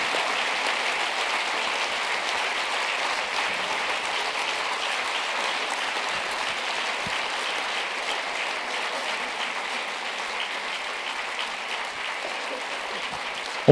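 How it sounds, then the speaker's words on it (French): Sustained, even applause from a large audience as students from a lycée in Chalon-sur-Saône come up on stage at a conference, a dense wash of clapping that goes on unbroken with no talking over it. "On peut les applaudir très fort."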